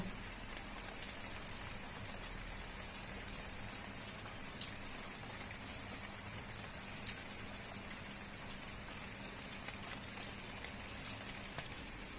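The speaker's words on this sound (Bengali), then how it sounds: "আজ রাতে অনেক বৃষ্টি হচ্ছে" Steady, dense nighttime rainfall pattering on surfaces, with occasional heavier drops standing out; no voices.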